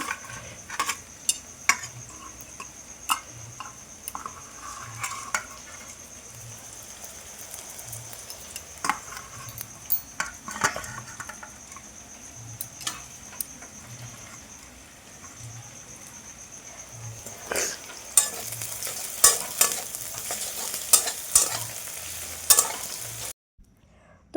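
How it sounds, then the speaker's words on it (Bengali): Chopped ginger, garlic, onion and green chilli fry in a pan, giving a continuous low sizzle broken by frequent sharp clicks and scrapes of a spatula stirring, rising louder near the end before stopping abruptly. "মশলাটা ভালো করে ভেজে নেবে আদা কুচুনো রসুন কুচুনো এবং পেঁয়াজটা লঙ্কাটা ভালো করে ভেজে"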